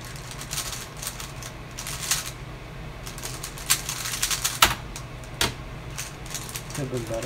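Clicking and clacking on two computer keyboards, irregular bursts of keystrokes with scattered sharper taps, close and fairly loud, with a low steady hum underneath.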